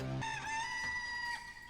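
A rooster crows once in the PS1 video game Alundra, a clear, sustained electronic-sounding call with a rising then held tone lasting under two seconds, alone and close.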